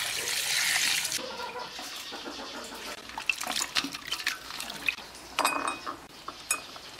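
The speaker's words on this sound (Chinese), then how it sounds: "这样用清水冲洗一下" Lamb ribs are rinsed under clean running water: a steady rushing tap stream, then splashing, dripping and occasional clinks against a bowl or sink, close by.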